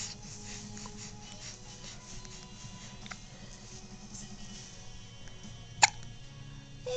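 A baby hiccups once, a short sharp sound near the end against a quiet room background with a low steady hum.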